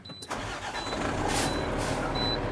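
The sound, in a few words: truck engine starting during a CDL safe start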